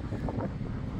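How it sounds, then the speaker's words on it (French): Strong wind from storm Herminia buffets the microphone in a loud, rumbling low roar that surges slightly and continues without voices. "Il y a quand même beaucoup de vent."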